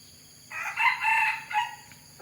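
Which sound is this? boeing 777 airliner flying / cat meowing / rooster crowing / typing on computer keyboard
rooster crowing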